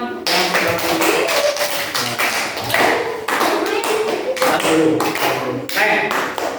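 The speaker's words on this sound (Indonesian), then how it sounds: "Tepuk tangan untuk teman-teman." Children in a classroom clap for their classmates, a dense run of taps and claps lasting throughout, fairly close and steady, with some voices mixed in.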